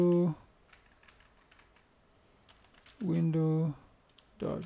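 Keys clatter on a computer keyboard as code is typed, a soft, close run of quick taps in the gap between two short stretches of someone speaking.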